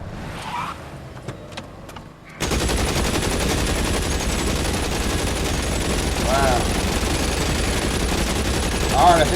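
Sustained gunfire in the L.A. Noire video game during a car chase, a dense continuous rattle of shots over a running engine, following a few brief isolated clicks and taps.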